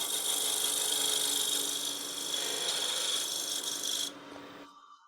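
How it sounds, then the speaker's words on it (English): A skew chisel takes a peeling cut across soft wood on a lathe while a box is turned, a close, steady hissing rasp that runs for about four seconds and then stops abruptly. "I think I'll finish with a skew because it's going to be a little bit faster. Just take a peeling cut."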